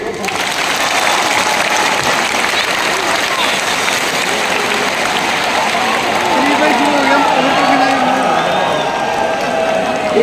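A large crowd at a Vestige anniversary mega event performs a coordinated applause routine, a loud dense wash of clapping and crowd noise filling the hall continuously.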